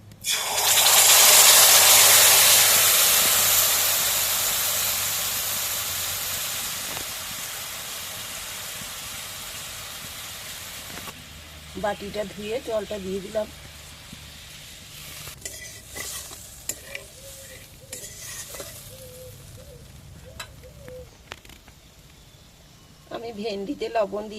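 Spiced yogurt mix poured into hot oil tempering for a yogurt okra dish, a loud burst of sizzling that fades to a softer simmer, followed by stirring noises while someone talks.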